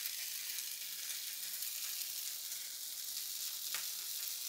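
Oil sizzling steadily on a rava dosa in a hot pan, a bright, even crackle that stays constant throughout with no talking.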